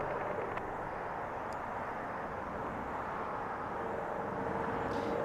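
A Southwest Airlines jet departs Los Angeles airport bound for Salt Lake City, heard as a steady, broad roar that holds evenly throughout at moderate distance.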